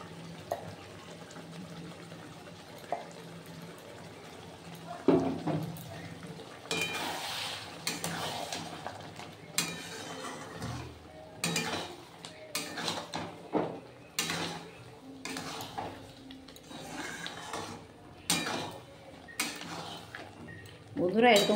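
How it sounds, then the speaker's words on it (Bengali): Mustard and poppy seed paste is added to a pan with raw tomato and stirred, giving a soft sizzle under repeated scraping and clinking of a spatula against the pan, close and uneven, with someone talking at times. "এবার আমি সর্ষে বাটাটা দিয়ে দিচ্ছি"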